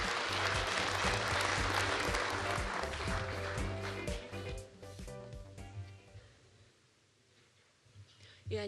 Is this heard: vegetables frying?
no